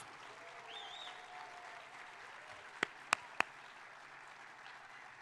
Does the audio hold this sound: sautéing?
no